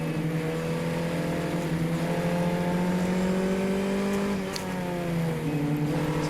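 A race car at a Palm Beach road race holds a loud, steady engine drone with rising harmonic lines and a brief dip near the end as it shifts around 6,700 RPM, running close and continuous throughout.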